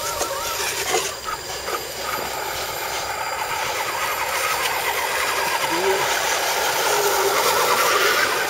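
Electric motor of an RC mudding truck runs steadily on an outdoor trail, a continuous whine with rising intensity toward the end, heard alone without talk.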